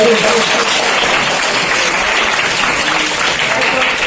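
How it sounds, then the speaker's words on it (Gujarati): A crowd at a primary school celebration for girls' education and school admission gives continuous, dense applause to welcome the children. It is loud and steady from start to finish. "તાળીઓના ગડગડાટથી આપણે એમને વધાવતા રહીશું"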